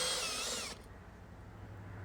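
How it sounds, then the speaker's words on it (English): A power drill or driver whirs loudly for under a second while undoing Phillips head screws on a stove knob switch, then cuts off, leaving a low room hum. "Undo these Phillips head screws and the switch comes loose."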